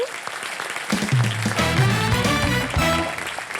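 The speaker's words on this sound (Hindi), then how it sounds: "सो वेल डन, तालियां" Studio audience applause on a Hindi television game show, bursting in after a sparse start and then swelling over bright music stings, moderately loud and continuous to the end.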